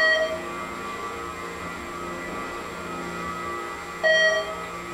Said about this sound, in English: I love that chime or beep